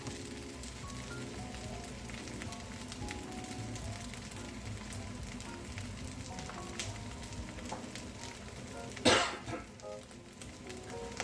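Kimchi fried rice crackles and sizzles against the bottom of a frying pan in a dense, steady patter, with one louder sharp burst near the end.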